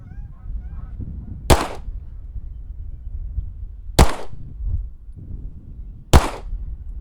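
Three sharp pistol shots at a shooting class, spaced a couple of seconds apart and loud against a quiet outdoor background, with no talking between them.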